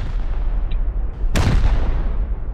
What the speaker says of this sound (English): We'll fire a couple rockets in there first.